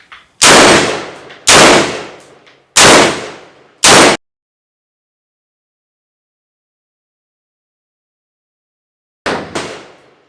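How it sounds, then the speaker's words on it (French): Several loud, sharp shots from a Daniel Defense M4V7 AR-15 carbine fired in quick succession: four close, echoing cracks in a burst, a long silence, then two more shots near the end. "L'arme permet le tir en fait en étant bien compact et ne bougeant pas trop, elle permet le tir rapide"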